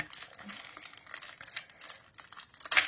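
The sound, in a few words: opening plastic packaging of die cuts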